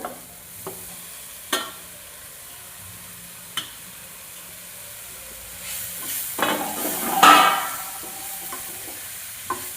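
Beetroot and carrot stirred in a pan bring a low background sizzle, a few isolated sharp knocks of a spoon, and a louder burst of hissing and scraping late on as the vegetables are mixed; no talking.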